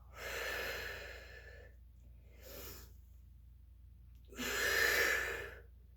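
Breathing in and out during a pilates workout: three broad, airy exhalation bursts, the last loudest, with quiet pauses between and no speech.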